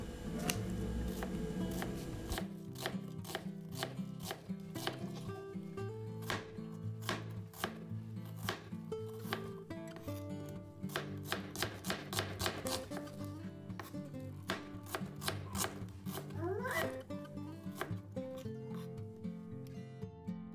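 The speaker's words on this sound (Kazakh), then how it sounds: "2 пиязды алып, бенеде көрсөтүлгендей туурайбыз." Two onions being sliced with a knife on a cutting board for potato cutlets, a brisk run of sharp, close chopping taps that keeps going steadily with brief pauses, over faint kitchen background.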